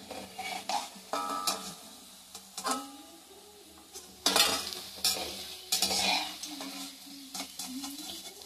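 Drumstick flower fritters fry in hot oil with a continuous crackling sizzle, broken by sharp metal clinks and scrapes of a utensil lifting them from the pan, close and moderately loud.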